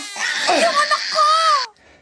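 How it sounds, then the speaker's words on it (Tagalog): A baby cries loudly and continuously for under two seconds, a wailing, rising-and-falling cry with strained sobbing tones, close up, then stops abruptly. "Baby, stop crying na."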